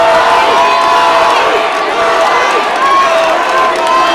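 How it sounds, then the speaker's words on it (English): Loud, dense crowd noise fills a hometown arena in Missoula at an MMA event as fans chant a fighter's name while the judges' decision is awaited, a steady roar with rhythmic shouting throughout. "Crowd chanting Cody's name."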